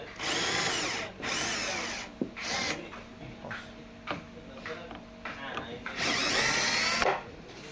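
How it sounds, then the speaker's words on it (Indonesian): A power drill removing bolts from the frame of a Yokisa massage chair, with several close whirring bursts of a few seconds each. Ratcheting clicks and handling noise fill the pauses, and a person talks at times. "Kita buka 4 baut bagian sini."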